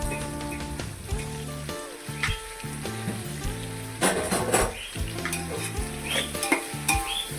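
Onions and tomatoes sauté in a pan for chicken biryani, with a constant sizzle broken by scraping stirs and clatter from the spoon, close up and without speech.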